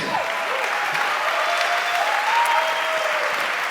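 Sustained applause from an audience at an event, dense and steady clapping for the full few seconds with a slight swell toward the middle.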